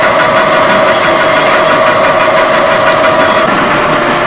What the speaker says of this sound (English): he's milling the sides of a chuck of metal down